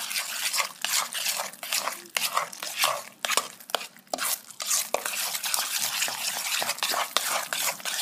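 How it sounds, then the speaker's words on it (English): Spices being stirred together in a bowl, a close, continuous scraping and swishing with quick rhythmic strokes and occasional light clinks, without speech. "Now you're going to stir together all your spices."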